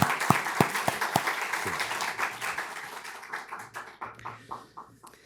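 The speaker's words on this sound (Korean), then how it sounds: "박수로 환영하겠습니다" Congregation applause at a Sunday afternoon church service, welcoming a missionary speaker, starting with a few sharp distinct claps that blend into dense clapping and thin out toward the end.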